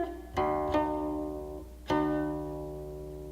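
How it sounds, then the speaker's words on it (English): A Chinese plucked string instrument plays a short phrase from the piece Zhou Kuang (Drunken Madness): three clear plucked notes ring out close and alone, each decaying slowly, the last one sustaining to the end. "I would play a very short phrase from the very famous piece, Zhou Kuang, Drunken Madness."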